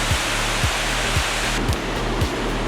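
Class 6 whitewater rapids on the river below Niagara Falls, a loud, dense, continuous roar of rushing water, with a faint rhythmic thumping running underneath.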